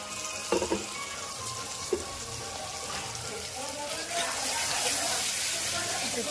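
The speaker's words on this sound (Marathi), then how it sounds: "कांदा टाकायचा मग नंतर काळं तिखट टाकायचं चांगलं परतून घ्यायचं आणि त्यात आता टोमॅटो मिक्स करायचा" Onion, red chilli powder and tomato masala sautéing in a pan, a soft steady sizzle with running-water-like hiss that grows a little louder near the end, with a few brief knocks early on.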